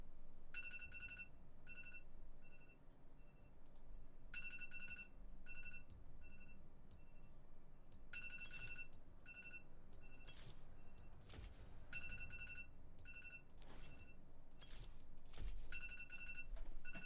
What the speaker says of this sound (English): Sorry about that alarm.